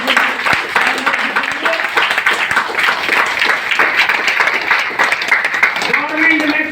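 Loud, sustained applause from an audience at a distributor training seminar, dense clapping filling the whole stretch with a voice calling over it.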